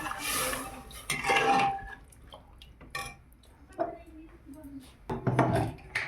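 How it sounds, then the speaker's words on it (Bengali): Potatoes are stirred in a pan after water is added for a roti and potato curry, producing bursts of scraping, clattering utensil-on-pan noise separated by quieter pauses. "জল দেওয়ার পরে একটু নেড়ে চেড়ে দেবো"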